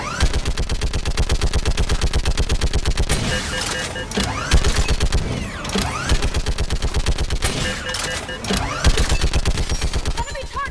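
Gunfire in the video game Mass Effect 3: rapid, sustained automatic bursts rattle in loud, even volleys for about ten seconds, with short pauses between them and shouted voices mixed in.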